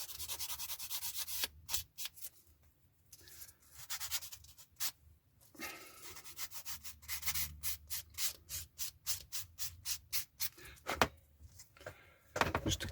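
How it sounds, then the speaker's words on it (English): A Flory Models dual sander rubs back and forth over small plastic kit parts for a 1/72 Airfix MiG-17, producing quick, close scratchy strokes in bursts, with a steady run of rapid repeated swipes near the end. "Flory Models dual sander."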